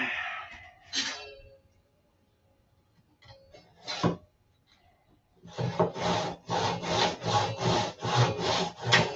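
Hand saw cutting a 2x4 of wood: a few scattered clinks and scrapes, then a close, steady run of about ten rhythmic back-and-forth rasping strokes.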